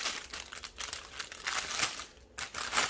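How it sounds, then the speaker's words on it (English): A plastic bag crinkles and rustles steadily for a few seconds as roses are pulled out of it for a floral arrangement, close and fairly quiet, with no voices. "Start off by taking out the roses from the plastic bag."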